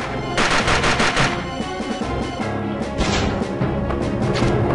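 Gunfire in the video game Aliens Infestation with an upgraded pistol rings out as dense, rapid, loud shots layered over game music and effects, continuing without a break.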